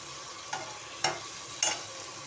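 Brinjal (eggplant) frying in a pan, a quiet steady sizzle with three short scraping stirs spaced about half a second apart, close and without talk.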